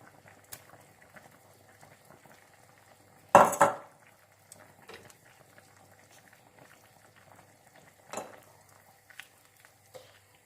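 A spatula scrapes and clinks against a pot of chicken peanut stew being stirred, giving one loud clatter followed by a few softer knocks over a faint low bubbling. The sounds are close and intermittent.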